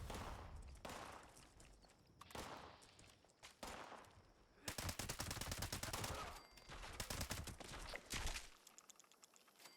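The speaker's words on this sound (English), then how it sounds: "You're shooting." Video game gunfire comes in repeated bursts, with long rattling strings of rapid shots between pauses and a quieter, cut-off tail, moderately loud with no voices over it.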